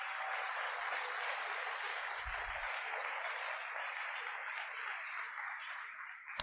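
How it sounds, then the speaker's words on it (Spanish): Church congregation applauding during a Spanish-language sermon, a sustained, fairly soft rush of many hands clapping with no talk over it. "denle el aplauso al Señor"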